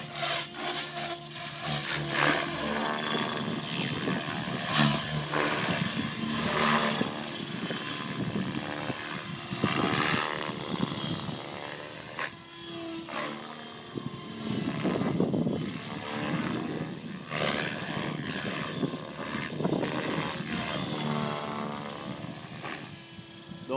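Electric RC helicopter, a Fusion fitted with a 540 motor and a Castle Creations 80HV controller on governor mode, with the head spinning around 2150 rpm. Its steady, close, whining rotor and motor hum rises and dips with throttle changes throughout the flight.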